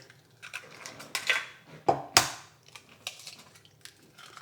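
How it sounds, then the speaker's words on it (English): Eggs cracked against a bowl while making eggplant parmesan in a home kitchen: a few sharp, close taps and cracks, two especially loud, amid faint clinks of bowls and utensils. "Now we're gonna crack some eggs."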